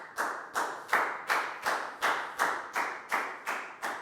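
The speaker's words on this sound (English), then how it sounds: "High five and a big round of applause for Pacmung" Primary school students in a Year 4 maths lesson clap together in slow, regular unison, about ten crisp, echoing claps spaced evenly like a chant beat in a classroom.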